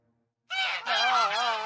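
Geese cackle loudly in a goose shed, a burst of overlapping nasal honks starting suddenly and continuing steadily up close.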